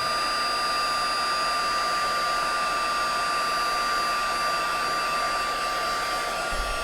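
A heat embossing tool blows hot air in a steady, even whir while it melts embossing powder onto a Merry and Bright ornament card. The sound holds constant and close throughout, with no talking.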